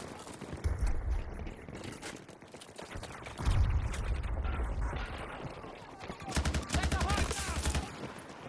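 Type 88 light machine gun in the online shooter game Battlefield 2042, firing rapid bursts of gunfire in several separate strings among other game noise, with a player talking over it.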